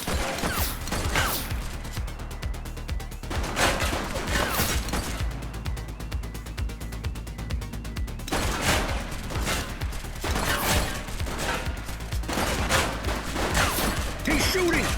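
Gunfire in the police video game The Precinct, with scattered bursts of shots and clattering mechanical sounds continuing throughout under brief shouted voices.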